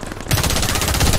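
Rapid automatic fire from a SAR 109T rifle in the shooter game Warface, a dense, loud burst of rattling shots that starts abruptly after a brief quiet moment and continues without a break.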